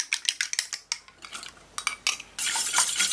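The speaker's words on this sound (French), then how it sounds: "On bat les œufs avant de les intégrer." Eggs are beaten for an orange meringue dessert, a utensil clicking rapidly against a bowl in quick irregular strokes, then settling into a continuous whisking scrape near the end, close and with no talk.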